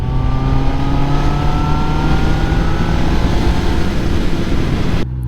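A QJ Motor SRK 800 four-cylinder roadster accelerates hard in sixth gear, its engine note climbing steadily in pitch, loud and close, with wind rush underneath before it cuts off abruptly at the end.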